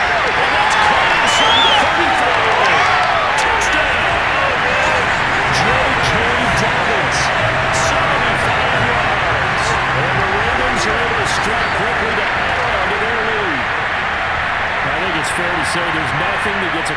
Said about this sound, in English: Nothing that gets a crowd to its feet quite like a big play